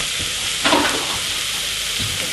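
Garlic frying in a pan makes a constant loud sizzle, with a brief burst of louder hiss and stirring partway through.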